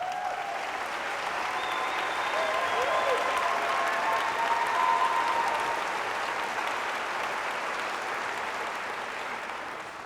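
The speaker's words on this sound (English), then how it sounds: "Would those sponsors please stand up so we can give you a round of applause?" Convocation audience applauding standing sponsors at a school district event, a long sustained wave of clapping that swells in the middle and tapers slightly at the end, with faint voices mixed in.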